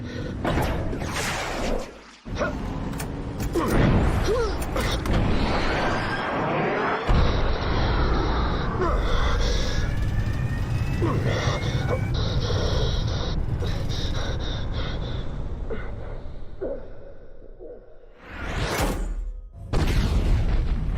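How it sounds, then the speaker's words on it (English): Bombs dropped from a fighter jet hitting their target in a Top Gun film scene, heavy booming blasts and rumbling jet roar with a sharp impact near the end, loud and dense under score. "Target acquired, bombs away."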